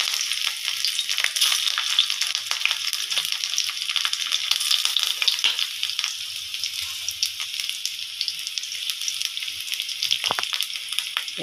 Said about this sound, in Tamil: தோலோட பூண்டு பூண்டு நல்லா பொரிஞ்சிருக்குது.